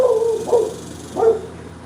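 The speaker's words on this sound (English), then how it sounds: "Who you barking at, fool?" A pit bull gives three short, close barks or yips in quick succession, the first drawn out slightly longer and the other two brief.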